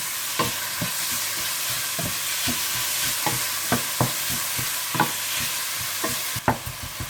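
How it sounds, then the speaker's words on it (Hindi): Onion and garlic sauté lightly in a pan, a soft continuous sizzle broken by repeated scraping clicks of a spoon stirring, close and fairly quiet, with no talk. "इसे आपने ब्राउन नहीं करना, बल्कि हल्का सा आपने सोते करना है"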